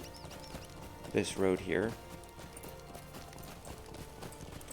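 Horse hooves clip-clopping on a road in the Lord of the Rings Online video game, a short burst of rhythmic hoofbeats and a whinny-like tone mid-clip, under a voice talking.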